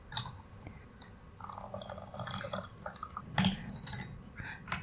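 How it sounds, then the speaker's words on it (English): Water is poured over oolong tea leaves to rinse them, giving faint trickles, drips and light glassy clinks from the teaware. The sounds come in short scattered bursts across a quiet background. "I will rinse the tea."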